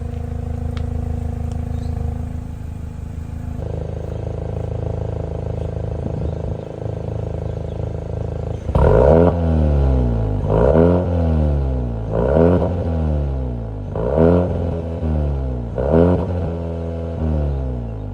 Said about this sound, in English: it's got actual exhaust tips and they actually make a pretty cool sound for the car that this is.